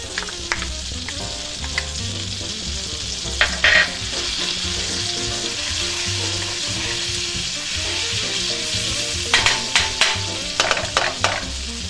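Minced garlic, about four cloves, sizzles and fries steadily in butter in a pan, with a few sharper clinks and stirring scrapes near the start, middle and end; no talking.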